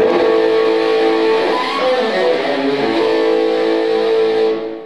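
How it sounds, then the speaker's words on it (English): An electric guitar played through a single amp, sustained chords and a sliding bend, steady and fairly loud, fading out at the end. "this is just a basic, just one amp setup. It'll sound like this."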